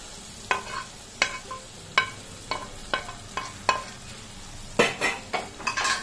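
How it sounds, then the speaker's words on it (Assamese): A spoon scrapes and taps rhythmically against a pan about a dozen times while mushrooms sizzle softly in frying masala underneath. "মছৰুমখিনি দি গোটেইখিনি আকৌ অলপ ভালদৰে লৰাই দিছোঁ"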